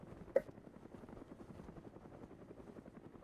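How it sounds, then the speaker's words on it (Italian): A helicopter flying nearby in a video game, a low rhythmic rotor chop that stays faint and steady throughout, with one brief sharp click near the start. "Sento un elicottero in zona."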